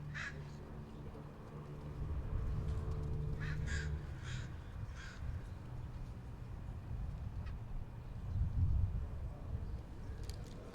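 A crow at a lawn bowling green during a championship match, a few harsh caws near the start and more around four to five seconds, over low outdoor rumble.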